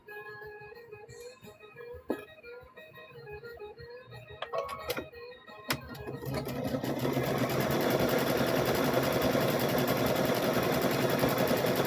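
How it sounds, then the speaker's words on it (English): A domestic sewing machine stitches around two 10-inch quilt squares: scattered clicks and handling noises give way to a steady, close, continuous motor whir through the second half. "these are 2 10-inch squares, sewing all the way around"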